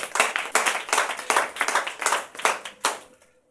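A church congregation at a Sunday service claps together in about eight loud, separate bursts of clapping, each one fading fast, until the sound dies away near the end.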